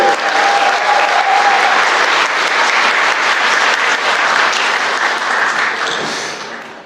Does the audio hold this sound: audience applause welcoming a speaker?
yes